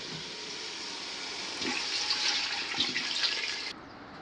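Water is poured into a biryani pot after the biryani powder mixture has dried: a steady splashing gush for about two seconds in the middle, over quiet kitchen background.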